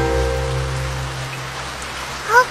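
Steady rain pours down on a surface, a dense even hiss with low rumble throughout, and a brief brighter swell near the end; no voices.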